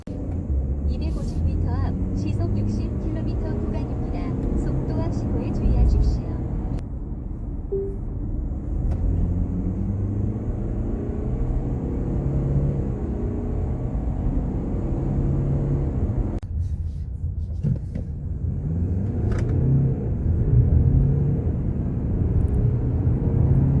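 A 2019-era BMW X4 (G02) SUV accelerates at full throttle, a steady deep engine rumble heard from inside the cabin with voices talking over it.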